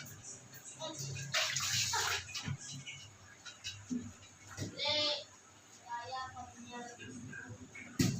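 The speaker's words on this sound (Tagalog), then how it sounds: "Tapos maghuhugas tayo" Tap water splashes in short bursts while ingredients are washed for ginataang papaya with malunggay, two louder gushes standing out over a murmur of background sounds.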